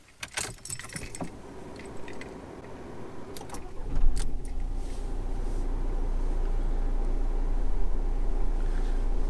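Keys jangle loudly up close, then a car engine cranks and starts at about four seconds and settles into a steady, low idle hum that continues to the end.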